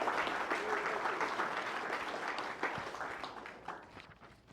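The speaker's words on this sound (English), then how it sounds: "So please give them a big round of applause." A crowd at a community historical happy hour breaks into steady applause that gradually thins and fades toward the end, moderately distant with scattered individual claps at the tail.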